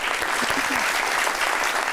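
A television studio audience bursts into steady, dense applause, a continuous wash of many hands clapping with faint voices mixed in underneath.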